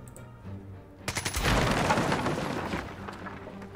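Gunfire in the Jagged Alliance 3 video game hits a barrel. Quiet game ambience comes first, then a sudden burst of loud rapid shots with a boom that fades after a couple of seconds.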